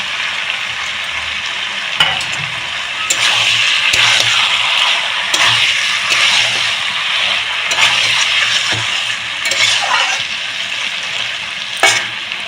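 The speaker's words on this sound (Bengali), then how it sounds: "তো কুমড়োটা কিছুক্ষণ কষানোর পরে এখন আমি দিয়ে দেবো ভেজে রাখা চিংড়ি।" Fried prawns tossed into a pan of pumpkin curry, steady close sizzling and frying with scraping stir strokes and occasional clinks of the spoon against the pan.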